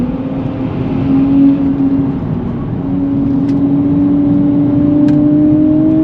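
A 2024 Nissan Z Nismo's engine pulls hard on a race track, a loud, close, rising drone that climbs steadily in pitch as the throttle opens, with a brief swell near the start and no voices.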